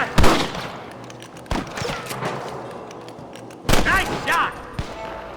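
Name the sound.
gunshots in the Red Dead Redemption video game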